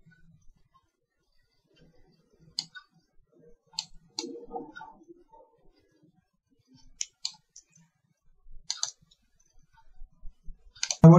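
Computer mouse clicking, sparse sharp clicks in small groups scattered through an otherwise quiet room, with a brief soft murmur partway through.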